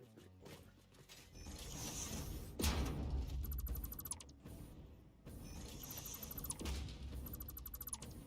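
A ratcheting mechanism clicks as it is twisted notch by notch, with rapid close ticks in two bursts over a broad rumbling noise floor. No one speaks.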